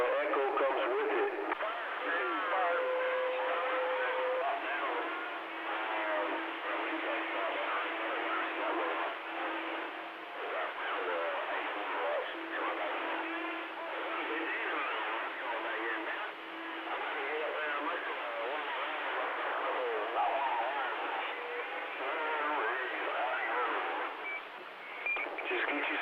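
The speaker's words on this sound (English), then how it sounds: "Just get you some echo, man." Voices crackle through a CB radio with an echo effect, narrow-band chatter continuing steadily with a hollow, repeating tail on the speech.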